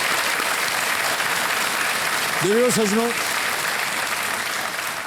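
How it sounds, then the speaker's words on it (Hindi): A studio audience on a TV quiz show claps in steady, dense applause that fills the room, with a voice briefly speaking over it midway. "धन्यवाद तालियां बजाने के लिए।"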